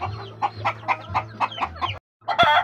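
Young hens, grown female chicks just let out of their pen, cluck in a quick series of short, rhythmic calls over a low steady background hum, with one brief pause near the end.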